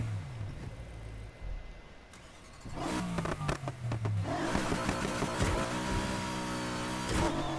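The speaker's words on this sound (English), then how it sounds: "every time I hear in the supercharger, I have to literally turn the car off and then immediately turn the car back on" In the Need for Speed Heat video game, a supercharged car engine idles, cuts off, then restarts and climbs into a whining rev with rising and falling pitch. A faint background voice comes through at times.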